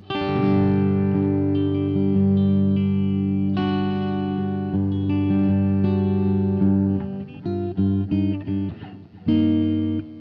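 Sustained electric guitar chords with a slight gritty distortion, loud and ringing, with a few shorter choppy strums near the end.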